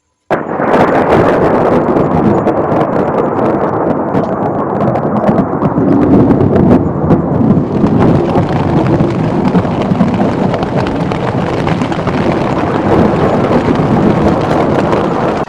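Heavy rain at night in a forest, a loud, dense, continuous roar with crackling impacts throughout, close and steady, with no voices.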